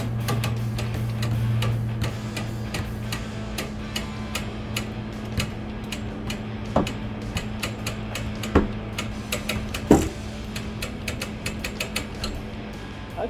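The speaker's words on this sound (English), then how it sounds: "I got my crank hooked to the van." A paintless dent repair crank hooked to a van pulls out a dent, making a steady series of ratcheting clicks and ticks over a low hum, close and without talk.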